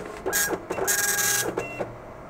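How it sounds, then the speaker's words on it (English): A 1991 Fujitsu DL3600 dot matrix printer prints its menu up close, with two loud buzzing bursts of print-head passes separated by short carriage movements. "Then you wait for the self-test, release the mode button, and it starts printing the menu."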